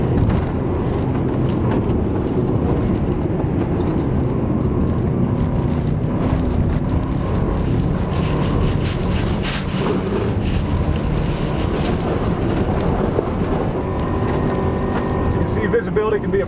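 Ice racing cars pull away at the start of a heat on a frozen track, engines droning loud and continuous under heavy wind buffeting, with a voice speaking faintly over the roar.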